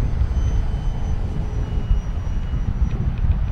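A Banana Hobby T-28 1100mm 4S RC plane flies over a paved runway, its engine giving a steady, loud low rumble that stays continuous throughout, with no speech.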